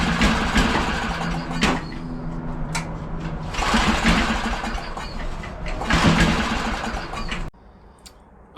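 A cheap Cub Cadet snowblower with a warm engine revs up under more throttle, a loud close mechanical roar that surges in waves before dropping abruptly to quiet near the end.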